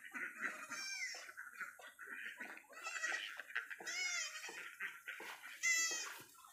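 Goats bleat repeatedly while feeding on sweet potato tops at a farm, a baby goat among them, the wavering calls close and fairly loud, overlapping one another in quick succession.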